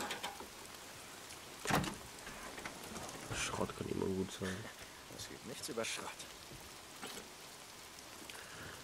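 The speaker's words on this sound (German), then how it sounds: "Und das regnet." Steady rain hisses softly in the Days Gone video game, a continuous quiet patter that runs beneath someone talking, with a few louder thumps and clicks mixed in.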